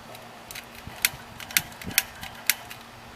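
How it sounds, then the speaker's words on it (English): Pump plunger working the fuel tank of a thrifted Coleman camp stove: a handful of sharp mechanical clicks and ratcheting knocks, spaced roughly half a second apart, close and fairly quiet. "we're going to pump it up a little bit more, see what happens."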